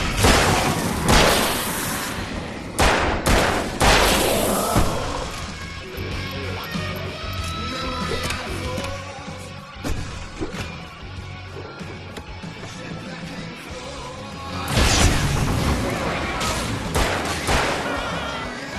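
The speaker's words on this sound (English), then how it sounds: "I can set off more of the fireworks from here and help you out!" Fireworks going off at a stage in the Alan Wake game, heavy booms and crackling bursts in clusters at the start and again near the end, loud and reverberant with some voices and game noise.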